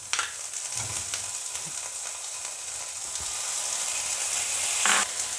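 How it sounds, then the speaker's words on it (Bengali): Onion and garlic sizzle steadily in hot oil in a pan, with occasional stirring clatters and a slight swell toward the end; no voices. "এটাকে আমি একটু ভালো করে ভেজে নেব।"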